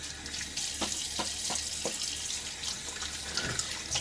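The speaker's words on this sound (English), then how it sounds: "All right, a little partial rinse." A tap runs steadily into a sink for a rinse during a wet shave, a close, continuous splashing stream with a few soft splashes of hands in the water.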